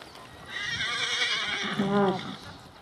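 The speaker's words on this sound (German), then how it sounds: "Abteilung im Arbeitstempo Galopp." Horses cantering in a Haflinger show arena, with a whinny rising in the middle and soft hoof beats running through, while a voice calls out riding commands.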